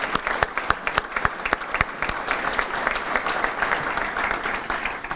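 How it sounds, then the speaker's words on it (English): An audience at a conference session gives warm applause to sponsors. Steady, dense clapping rings out for several seconds with a few sharper individual claps standing out, and no one speaks over it. "Could you please give these sponsors a warm round of applause for their generosity?"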